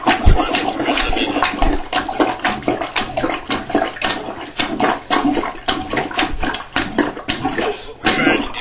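Water is soaked out of a toilet bowl with a sponge during a flange repair, making continuous close sloshing, dripping and squishing splashes in irregular bursts.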